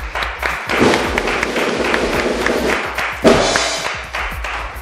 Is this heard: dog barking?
no